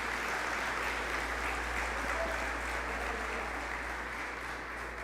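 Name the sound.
congregation applause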